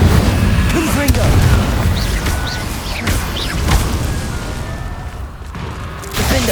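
Rapid spell blasts and booming magical explosions in the Hogwarts Legacy video game, with repeated loud thuds and crashes over a busy game soundscape, with a voice speaking over them.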